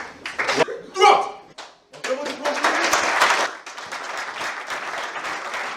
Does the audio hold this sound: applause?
yes